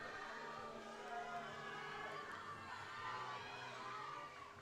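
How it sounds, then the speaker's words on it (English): Spectators at a USA Powerlifting Massachusetts State Championships session cheer and shout during a squat attempt, a steady, fairly distant wash of crowd noise with excited voices rising and falling throughout. "Crowd is into this"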